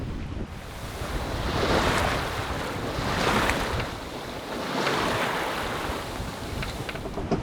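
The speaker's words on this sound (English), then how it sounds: "all to the rhythm of the never-ending rolling waves, up and down again" Ocean waves on the open Pacific roll in slow, swelling surges, rising and falling several times with steady wind noise underneath, no voices.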